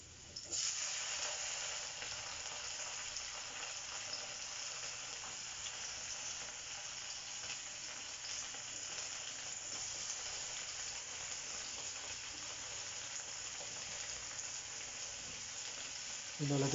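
Tomatoes sizzling in a pan as they are sautéed with chayote for ginisang sayote, a steady close frying hiss that runs unbroken throughout.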